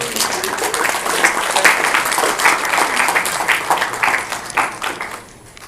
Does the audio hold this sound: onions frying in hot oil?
no